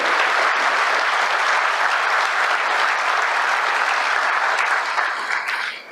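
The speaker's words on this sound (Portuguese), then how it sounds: "Uma salva de palmas às polícias do DF, às forças de segurança do DF." Loud, sustained applause from a large crowd, dense and steady before tapering slightly at the end.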